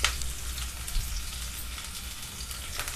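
Sliced capsicum frying in hot oil with chopped green chilli, a steady close sizzle with a few soft stirring clatters, no talking.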